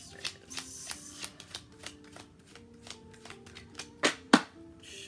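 A deck of cards being shuffled by hand, a run of quick riffling bursts and soft taps in an uneven rhythm, close and fairly quiet, with no talking.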